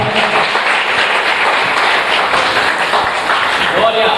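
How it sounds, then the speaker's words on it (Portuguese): A church congregation applauding during a worship service, a loud, dense and continuous wash of clapping with a murmur of voices underneath. "Aplauda o Senhor, igreja."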